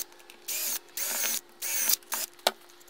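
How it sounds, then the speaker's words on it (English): Power drill pre-drilling screw holes through the plastic of a Milwaukee 18-volt NiCad to lithium-ion battery adapter, several short whirring bursts in a row with brief pauses between, close and alone. "So be very careful when you drill, just beyond the plastic, not a lot of pressure."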